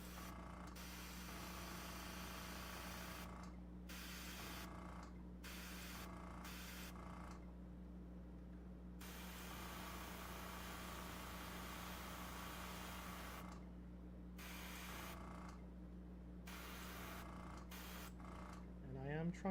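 A paint airbrush hisses in a steady stream of bursts, spraying highlights onto a model, close by over a constant low hum, with brief gaps between passes.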